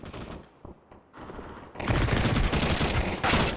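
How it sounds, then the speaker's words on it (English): Glock pistol shots in a Counter-Strike match, a few sharp, isolated shots early on, then a loud, dense stretch of rapid gunfire and game noise that runs to the end. "Jenny's Glock hit stiff"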